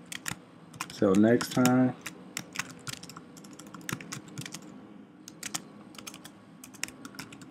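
Quick clicks of typing on a computer keyboard, scattered in short bursts across the clip, close and fairly quiet, with a brief stretch of a person talking near the start.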